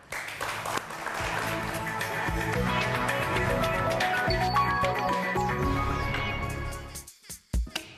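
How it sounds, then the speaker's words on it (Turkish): Studio audience at a Turkish word game show applauding: a sustained wash of clapping mixed with background music, ending in a few sharp isolated claps. "Hadi bir alkış alalım"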